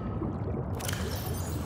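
Water in the video game Subnautica makes a steady, loud, full-bodied rush that runs unbroken and alone throughout.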